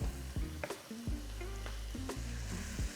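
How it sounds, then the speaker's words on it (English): Vegetables for cheat's XO pasta sizzle and crackle in hot oil, with spoon scrapes and stirring clatter over a steady frying hiss. "you want your veg, when it hits the oil, to really sizzle."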